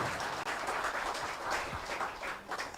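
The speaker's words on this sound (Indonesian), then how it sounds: "Tepuk tangan" Audience applause at a Joybiz gathering in Jember, a faint, dense wash of many hands clapping at a distance that holds steady throughout.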